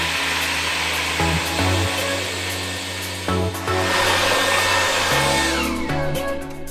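Xiaomi Mi G9 cordless stick vacuum cleaner running close up while cleaning along baseboards, a steady loud motor whine and airflow roar with pitch shifts and brief dips as the nozzle moves against the floor and skirting.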